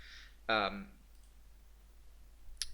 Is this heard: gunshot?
no